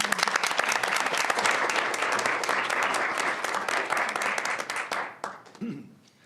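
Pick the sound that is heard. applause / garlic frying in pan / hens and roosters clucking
applause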